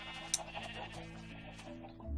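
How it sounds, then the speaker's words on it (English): Sheep bleating on a farm in a video game, several short wavering bleats in quick succession, fairly close and clear over a faint background hum. "This is also a sheep farm for all our wool."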